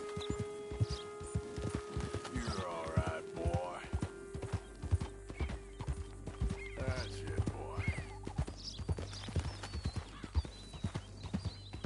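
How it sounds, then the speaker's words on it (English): A horse in the Red Dead Redemption 2 video game on PS4 gallops with rapid, rhythmic clip-clop hoofbeats and a brief whinny, under someone talking casually. "Nossa, o cavalo pulou sozinho, mano."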